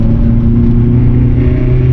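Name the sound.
BMW M3 E30 engine accelerating on a test drive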